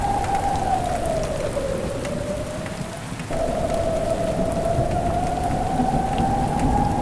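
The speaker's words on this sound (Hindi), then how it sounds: "अंधड़ आता है और तेज बारिश शुरू हो जाती है।" Heavy rain pours steadily during a thunderstorm, a loud dense wash with a deep rolling thunder rumble sweeping through, alone without voices.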